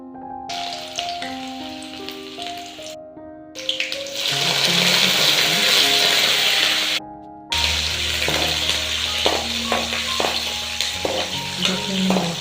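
Curry leaves, chili, garlic and shallots hit hot oil in a Kerala kitchen, giving a loud, steady frying crackle with brief gaps, clinks and a stirring scrape, over faint background music.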